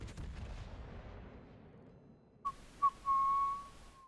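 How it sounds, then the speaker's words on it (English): A warship artillery volley in World of Warships: a rushing burst fades, then two sharp reports give way to a sustained high whistling of shells in flight, fairly faint overall. "Completely missed my volley here."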